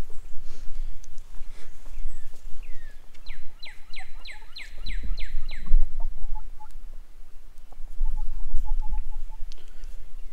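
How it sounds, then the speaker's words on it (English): Chickens cluck and squawk nearby in a short rapid burst of calls, with scattered softer clucks and rustling footsteps around them. "Chickens are excited to see us."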